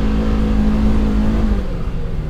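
A Polaris Xpedition side-by-side drives across sand, its engine giving a steady, loud, close drone throughout, easing slightly toward the end.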